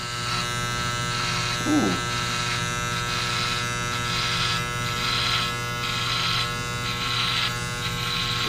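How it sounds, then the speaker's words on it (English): An AC hair trimmer runs continuously close by as it clips hair for a high and tight cut, giving a strong steady electric buzz with slight shifts as it moves through the hair, and a brief voice over it. "I'm going to use the AC trimmer, and let's see how this works now."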